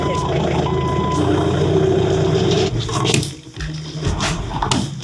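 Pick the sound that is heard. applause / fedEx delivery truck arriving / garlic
fedEx delivery truck arriving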